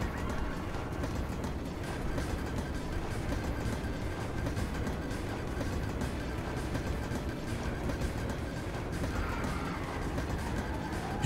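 Train running in Final Fantasy VII, a steady rumbling rail noise with faint rhythmic clatter and a thin whine, continuous and fairly loud throughout without talk.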